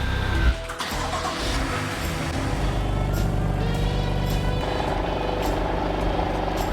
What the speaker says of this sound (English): At idle, well, the E46 M3 is the clear winner here.